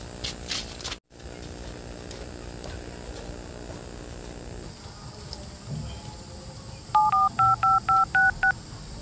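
A telephone number is dialled as a quick series of about seven evenly spaced keypad tones, clear and close, following a stretch of quiet room noise.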